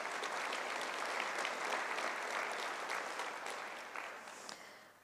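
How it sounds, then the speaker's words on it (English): Sustained applause from the audience at Harris County Judge Lina Hidalgo's State of the County Address, a dense even wash of clapping that holds steady and tapers slightly toward the end. "let's give them a round of applause"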